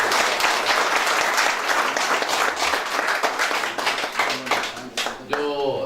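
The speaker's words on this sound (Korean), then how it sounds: "심찬 박수로 환영해 주시기 바랍니다." Applause from a crowd at a campaign office opening, dense and steady throughout, with some voices mixed in and a brief tonal sound near the end.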